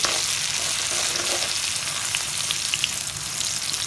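Eggplant (brinjal) slices fry in hot oil in a pan over a gas stove, a dense continuous sizzle and crackle filling the clip close and loud, with small pops scattered through.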